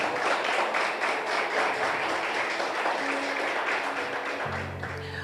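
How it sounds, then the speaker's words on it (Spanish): A church congregation gives loud sustained applause during a sermon, dense clapping throughout that gradually eases, with a voice coming in near the end. "Dale un fuerte aplauso a Jesucristo,"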